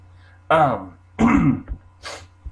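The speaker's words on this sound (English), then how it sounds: "So you have to listen to me sniffle and cough all day." A person coughs and clears their throat in two or three close, rough bursts, followed by a softer short throat sound, with no speech.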